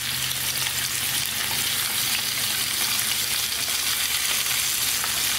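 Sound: chicken drumsticks frying in vegetable oil

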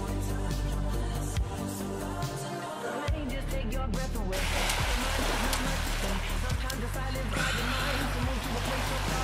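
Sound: cold stream water

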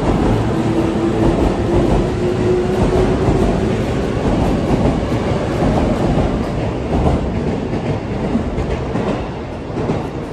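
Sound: Sotetsu Line train departing from station

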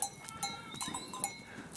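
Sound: large Honamlı goats returning from pasture

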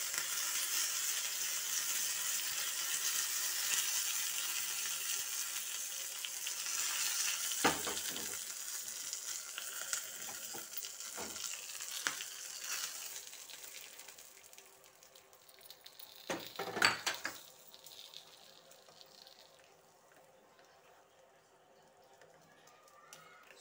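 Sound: curry leaves sizzling in hot oil tempering

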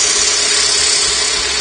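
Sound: friction bowl sander sanding wood on a lathe

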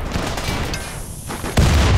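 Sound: turret exploding in video game Rimworld

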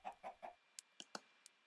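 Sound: chicken clucking in the video game Minecraft

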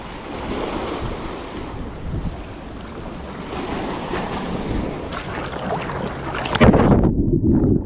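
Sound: sea waves among rocks at Anadolu Kavağı, Bosphorus

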